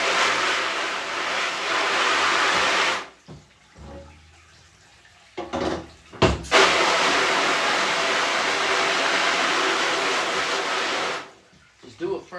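A hose nozzle on its shower setting sprays water over an emulsion-coated screen-printing screen, a loud, close, hissing rush that runs for a few seconds, stops, then returns for a longer stretch with brief splashy bumps in the pause.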